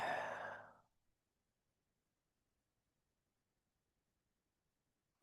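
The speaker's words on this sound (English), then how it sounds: "And deep breathing." A single deep, breathy exhale during guided meditation, close and soft, fading out after about a second into near silence.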